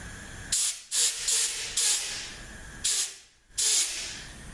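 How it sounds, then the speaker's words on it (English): Compressed air blows in short, loud hissing bursts into a hole in a 5R55S transmission solenoid pack, several spurts of varying length with brief gaps, close up. "I use a little compressed air and keep my fingers over the hole"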